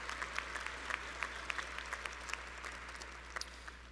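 Faint applause sounds distantly in a large assembly center during a law school commencement, a scattering of sharper individual claps over a low steady hum.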